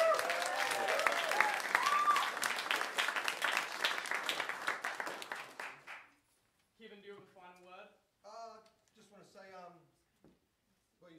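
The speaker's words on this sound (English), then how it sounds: "And another applause for your great, lovely, handsome, charming MC for tonight." Audience at a school show event applauding the MC, a full round of clapping with some voices mixed in that fades out after about six seconds, followed by someone speaking alone.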